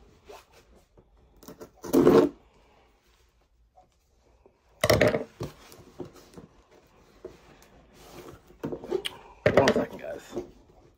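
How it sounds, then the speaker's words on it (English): Three loud, sharp ripping tears as duct tape is pulled from a sealed cardboard box, each burst brief and close, separated by quiet handling noises and faint rustling. "your boy was definitely struggling to open this box"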